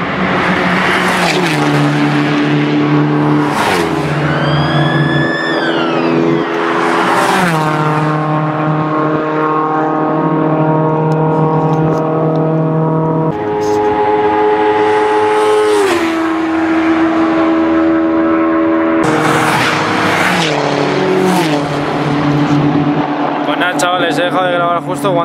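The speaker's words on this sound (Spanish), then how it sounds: "Justo cuando han pasado como 30 coches todos pegados al muro." Several cars in a track-day session at the Jarama circuit roar past close by one after another, engines rising and falling in pitch with a loud, continuous drone and overlapping pass-bys, while people talk over the noise.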